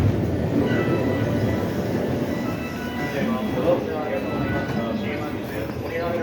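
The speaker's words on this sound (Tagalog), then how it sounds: "Is that the train?" A train on an Osaka railway line rumbles steadily with rail clatter from inside or close by, loud and continuous, while people talk over it.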